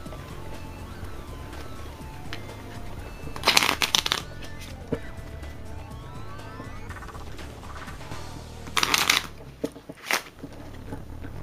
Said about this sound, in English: this is the entire deck, right? And we're going to shuffle it.